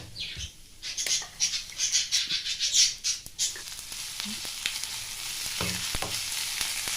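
Lentils, cumin and ground chili paste sizzle and crackle steadily in hot oil in a thick pan for a tempering, with occasional stirring scrapes close by; no one speaks.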